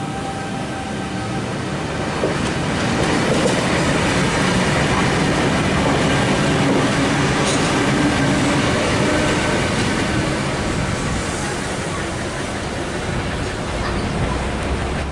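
Sydney train pulling away from a platform at Parramatta station, a steady broadband rumble that swells in the middle and eases slightly, with faint rail clatter and no voices.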